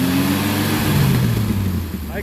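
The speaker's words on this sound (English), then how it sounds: "Okay, so I got my Dauphine engine running." A Renault Dauphine engine runs steadily with a low, rough mechanical drone while the choke kicks off and the fan blows, close and continuous with a slight rise in revs.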